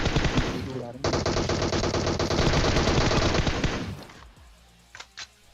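M4 rifle fire in the mobile video game PUBG Mobile: a sustained, loud automatic burst lasting about three seconds, followed by a couple of brief, fainter shots near the end.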